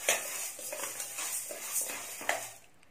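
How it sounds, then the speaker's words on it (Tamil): Urad dal roasting in a hot pan for murukku rattles and scrapes as it is stirred, with light irregular clatters and a soft dry sizzle, close and quiet. "இப்போ வானல் சூடு பண்ணியிருக்கேன், அதில் இந்த உளுந்தை போட்டு லேசாக தான் வறுக்கணும்"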